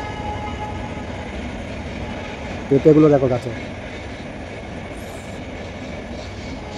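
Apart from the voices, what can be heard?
train passing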